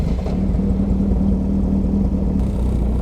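A Caterham sports car engine fires up and settles into a steady, loud, close idle rumble that holds evenly throughout, with no talking.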